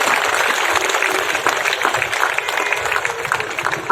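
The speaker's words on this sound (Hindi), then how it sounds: "अगर ठीक ठाक जीना चाहते हैं तो एक बार खुल के सब लोग तालियां बजाएंगे" An audience at a Hindi comedy poetry gathering (kavi sammelan) applauds, giving dense, steady clapping throughout with scattered louder claps.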